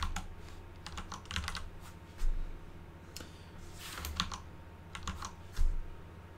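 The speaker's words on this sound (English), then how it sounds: "this is basically an ASMR keyboard stream" Quiet clicking of a computer keyboard being typed on, irregular bursts of keystrokes with a few heavier thocks, close and soft, with a low background hum.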